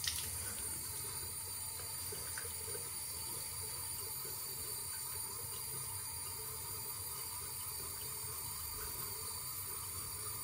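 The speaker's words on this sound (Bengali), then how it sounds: "সো একটু গরম জলেই পুরো নিজের মুখটাকে একটু স্পঞ্জ করে" Warm water runs from a tap while someone washes their face, a steady, faint hissing splash that continues evenly for about ten seconds with no talking.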